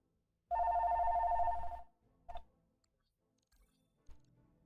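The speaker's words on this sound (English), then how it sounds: "That was a phone call coming in." A telephone bell rings once in a single sustained burst of about a second, loud and close, followed by a short click and faint handling noises in an otherwise quiet office.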